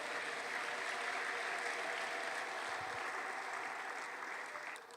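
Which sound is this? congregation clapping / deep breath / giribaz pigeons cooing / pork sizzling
congregation clapping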